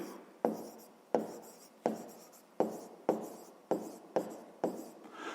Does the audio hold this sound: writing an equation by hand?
yes